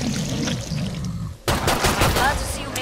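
Rapid gunfire against armored zombies in Killing Floor 2, a dense burst of close shots after a quieter stretch of ambient game noise, with a voice talking alongside.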